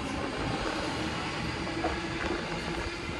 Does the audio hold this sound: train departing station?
yes